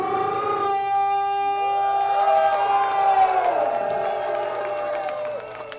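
A crowd at a pro wrestling event cheers and whoops for the wrestlers, a loud sustained roar with a wailing siren-like entrance tone sweeping through it.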